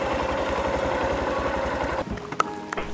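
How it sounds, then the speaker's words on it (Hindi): A Honda Monkey motorcycle engine idles close by with a steady, rapid low putter for about two seconds, then cuts off, leaving a few scattered clicks and knocks. "तो इस वाहन का नाम है होंडा मंकी, मेरी न्यू फेवरेट।"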